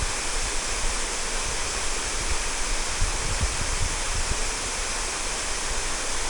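Prut waterfall in Cherrapunji, Meghalaya roars in a steady, loud, broadband rush of falling water that holds unbroken from start to end, with no voices over it.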